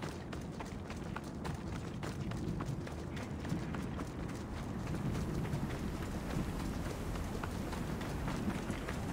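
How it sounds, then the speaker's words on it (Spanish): A horse gallops in Assassin's Creed Odyssey, steady rapid hoofbeats running continuously at moderate loudness over a windy, rumbling background. "Es que el caballo va muy rápido."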